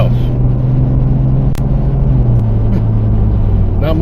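A 1998 Jeep ZJ on a test drive, fitted with quick disconnects, gives a steady low engine and road rumble that holds throughout, with one brief sharp knock partway through and no voice over it.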